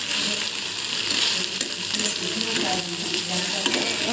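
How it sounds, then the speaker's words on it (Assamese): Okra and tomato fry in a pan with a continuous bright sizzle, while a spoon scrapes and stirs through the pieces in soft irregular scuffs. "এতিয়া অলপ লৰাই দিছোঁ।"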